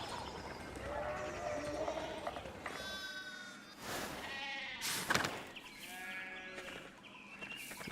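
Several sheep bleat in the video game Pentiment, overlapping wavering calls at moderate distance, some louder and nearer than others, with faint background ambience and no talk.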